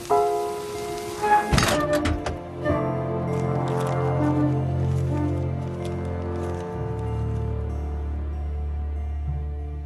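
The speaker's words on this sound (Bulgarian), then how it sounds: "Проклетият дъжд." Steady rain falls throughout, a continuous wash of patter on surfaces, opening with a few sharp thunks and knocks; no one speaks.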